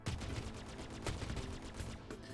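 Guns on a Cutlass Black ship in the Star Citizen video game fire in a rapid, close burst of repeated heavy shots, a steady automatic rattle with a few stronger thumps, no voice over it.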